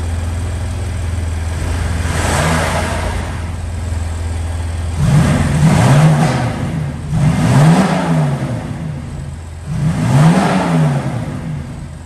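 An idling BMW M3/M4 engine fitted with a new front-mounted VRSF air intake is revved three times in a row, each burst swelling and dropping back to a low idle, loud and close.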